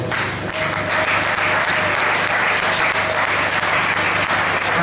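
A congregation applauds during a Sunday church service, a dense, steady wash of clapping that swells slightly and holds loud throughout.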